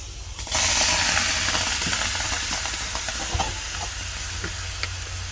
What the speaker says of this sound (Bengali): আমি টমেটোগুলো সব টুকরো করে কেটে নিয়েছি। এটা এবার কড়াইতে দিয়ে দিব।